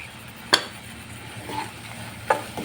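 Egg curry being stirred in a frying pan after chili and turmeric powder go in, with a steady soft sizzle and two sharp scrapes of the spoon against the pan.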